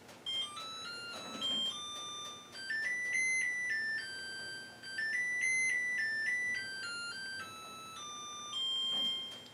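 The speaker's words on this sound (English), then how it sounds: "Listen to the timer music." An electronic chime melody from an LG gas stove timer, bright, clear beeping notes in several phrases, with a faint background hiss and no talking.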